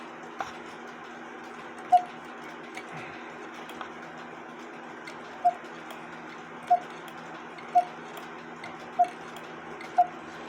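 An Austrian-made quarter-hour cuckoo clock ticks quietly against a steady hum, with a few sharper, louder ticks standing out at irregular intervals.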